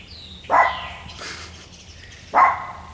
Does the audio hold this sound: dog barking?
yes